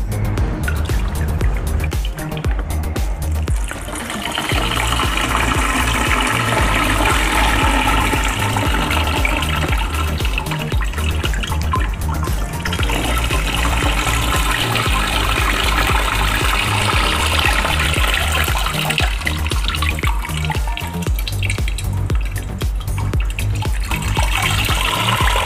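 Homemade fermented kepok banana wine dripping and trickling through a filter, a continuous wet splashing liquid sound that stays fairly loud and steady throughout, with a brief dip near the start.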